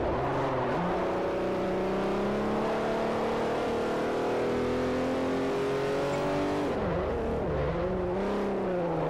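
A BMW in the racing game Forza Motorsport 4 holds a loud, steady engine note that climbs slowly in pitch, then drops sharply as the car shifts and revs again.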